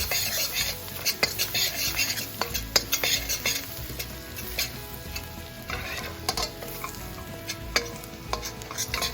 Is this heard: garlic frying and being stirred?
yes